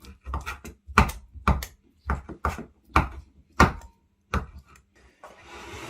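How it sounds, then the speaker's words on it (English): Prunes are chopped into smaller pieces with a knife on a board: about a dozen crisp, close knocks in a steady but slightly uneven rhythm, with short quiet gaps between them. "Chop those into smaller pieces"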